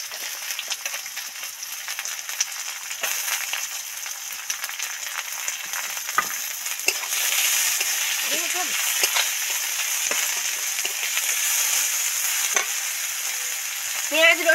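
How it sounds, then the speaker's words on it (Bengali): Chopped onion hitting oil with browned garlic in a wok, a loud continuous sizzle with spatula stirring and occasional scrapes, and a voice briefly heard underneath. "এবার পেঁয়াজ কুচিটা এর মধ্যে দিয়ে দেব।"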